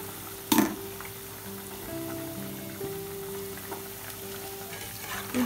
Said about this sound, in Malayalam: ഒന്നുകൂടെ കുറച്ച് നേരം കൂടെ ഒന്ന് കിടക്കട്ടെ എണ്ണയ്ക്കകത്ത്